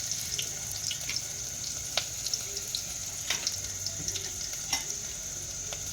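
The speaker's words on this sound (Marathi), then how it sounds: "आता गरम तेल झालंच असेल आता आपण कांदा आणि लसूण टाकणार आहोत" Onion and garlic frying in hot oil for a village-style fish curry, a steady sizzle with scattered crackles and pops, close and continuous with no talking.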